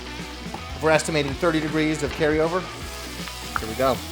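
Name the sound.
basting a seared steak in the pan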